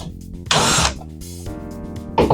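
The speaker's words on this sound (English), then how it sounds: "Now a lot of my drywall screws are visible on this side. So I'm going to try to get as many out" A cordless power drill backs drywall screws out of a wall during demolition for a pocket door install, giving several close, loud whirring bursts of changing pitch with no talking.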